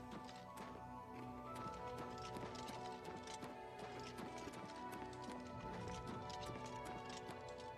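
Horse hooves clip-clop at a steady trot over a dense, tonal soundtrack in the video game The Elder Scrolls IV: Oblivion Remastered, faint and continuous, with no voices.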